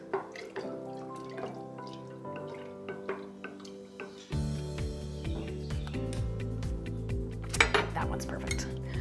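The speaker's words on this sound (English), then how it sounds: "we'll give it a stir and taste" A spoon stirs white sangria topped with melon peach soda in a glass pitcher, giving repeated bright clinks and rattling taps against the glass, close and clear, with no talk over it.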